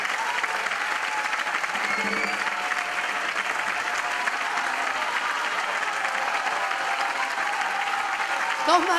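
A concert audience applauds a duo, a full, sustained roar of clapping that stays even and loud, with faint cheers and voices mixed into the crowd noise.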